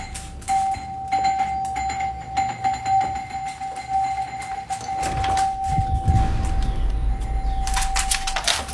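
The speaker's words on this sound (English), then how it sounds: "her quiet evening was cut short when the doorbell rang" An electronic doorbell tone holds steady for several seconds against a busy background of low rumble and scattered clicks and knocks, with no voices.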